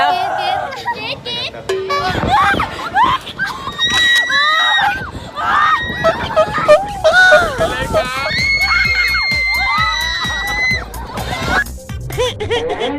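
Shrill screams and shrieks from several people rise and fall over a rumbling Viking swinging-ship amusement ride, with excited crowd noise throughout.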